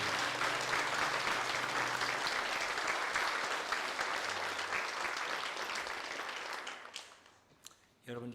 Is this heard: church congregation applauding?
yes